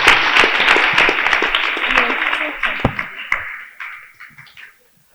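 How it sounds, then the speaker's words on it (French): Loud applause from a student audience at a girls' secondary school in Bouaké, a dense burst of clapping with voices mixed in that thins into a few scattered claps before stopping. "On applaudit très fort pour le médico-scolaire"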